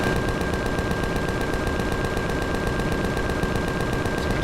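Ship-mounted turrets in the space survival game Empyrion Galactic Survival, on the Kelt starter planet, fire a steady, unbroken stream of rapid shots throughout, dense and even in loudness, with no talking.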